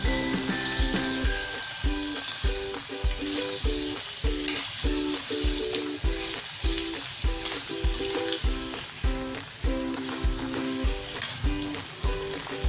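Asafoetida is stirred into hot oil in a pan for brinjal and potato gravy, a steady close sizzle under evenly spaced scraping strokes of a spoon.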